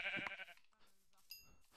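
A sheep bleats in Minecraft, a short quavering bleat at the start followed by fainter, softer game sounds, quiet overall.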